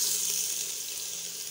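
Garlic frying in hot oil gives a steady, hissing sizzle, close and even, heard alone for a short moment.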